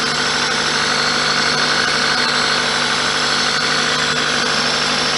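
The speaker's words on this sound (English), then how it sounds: "you're supposed to wait at least 30 seconds before revving the engine" A 1999 Toyota Celica ZZT231 engine with a repaired cold air intake idles steadily with a constant low rumble and faint vibration, no revving, running alone without any talk.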